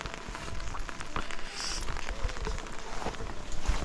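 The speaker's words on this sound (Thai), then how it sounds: "ฝนมันยังไม่หยุดตกเลย" Steady rain falls during several days of continuous downpour, a dense patter of drops on surfaces with scattered louder splashes and taps close by.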